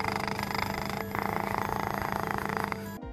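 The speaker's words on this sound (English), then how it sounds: "Cat purring." A cat purrs in a steady, rhythmic rumble, close and continuous for about three seconds before stopping abruptly.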